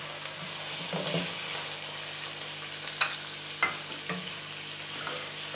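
Chicken frying with garlic in a pan gives a steady, fairly loud sizzle, broken by a few sharp clicks as a utensil stirs against the pan.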